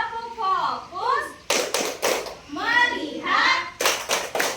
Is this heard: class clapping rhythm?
yes